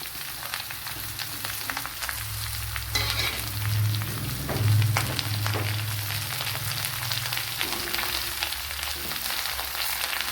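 Three large sliced onions fry in oil for a duck egg curry, a steady close sizzle broken by stirring scrapes and a few louder bursts midway, no voices.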